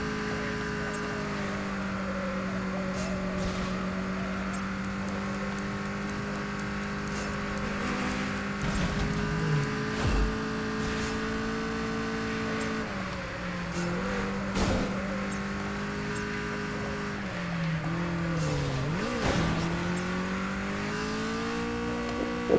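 Race cars speed along in Super Street The Game, a street-racing video game, their engines a steady, loud drone that dips and climbs through gear shifts, with occasional thumps and impacts.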